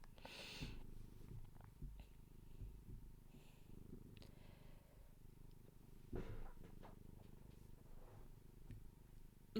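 A cat purring right beside a microphone, a low, faint, steady rumbling purr with small shuffles and clicks around it.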